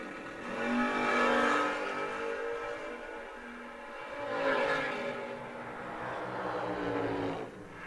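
Drag race cars launch down the strip, one a first-generation Camaro, with loud roaring engines swelling and fading in two long surges, a tight buzzy howl carrying across the track.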